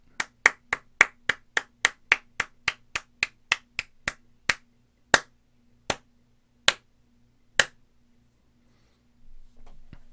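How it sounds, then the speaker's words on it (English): A single pair of hands claps in quick, crisp, close succession, then the claps slow and spread out before stopping, leaving near silence with a low hum underneath. "Let's give a round of applause to that."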